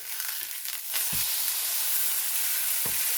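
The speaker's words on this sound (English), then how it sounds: "I'm doing a quick sear on the outside" A steak sears in a hot pan with a bright, continuous hiss of sizzling fat, broken by two dull low knocks of the pan or meat shifting, close and unvoiced.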